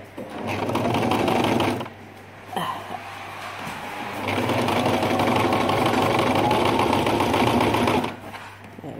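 A sewing machine stitches kimono fabric and reverses the stitch. A close, loud, steady whir runs for a couple of seconds, stops briefly, then resumes for a longer run before stopping again.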